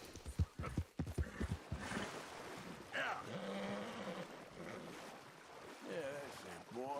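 A horse's hooves clip-clop in Red Dead Redemption 2, a quiet rhythmic patter close by with some broad noise and other game sounds beneath.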